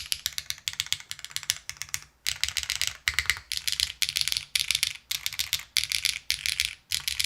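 Rapid clacking keystrokes on a custom-built mechanical keyboard, typed in quick bursts with brief pauses, crisp and close.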